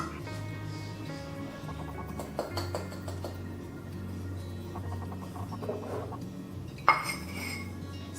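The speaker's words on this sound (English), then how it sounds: "once you put them ingredients into the pot, just whisk it up until it's smooth" Egg yolks, sugar and corn flour whisked together in a pot, giving a steady run of light metallic scraping and clinking with a sharper clank near the end, close by with no talking.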